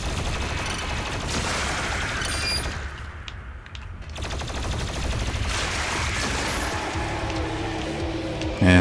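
Dense, continuous gunfire from shooting in the video game DOOM Eternal, loud and sustained with a brief dip in intensity midway before the barrage resumes at full force.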